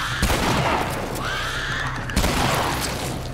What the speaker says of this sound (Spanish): Aquí le disparo, aquí le disparo.